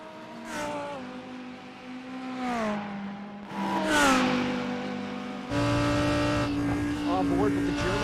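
A Lamborghini GT race car engine in a sim racing game at Bathurst, heard from the onboard position, revving hard and changing pitch through upshifts and downshifts, with a commentator talking over the engine.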